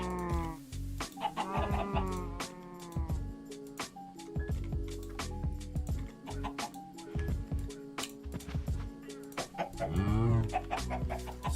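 Minecraft chickens cluck in a busy, repeated stream of short clucks and squawks in the game, layered with rapid clicking game effects and no talk.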